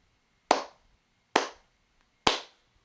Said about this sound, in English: Those slow, deliberate claps are my way of showing the utmost respect for a game